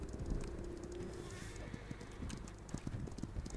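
Cavalry horses' hooves clip-clop steadily in the Roblox game Men of War. The beat is rapid, faint and continuous, like several mounts trotting together over a low background.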